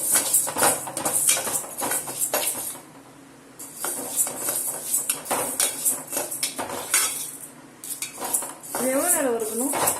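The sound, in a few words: roasting lentils in pan for kootu, stirring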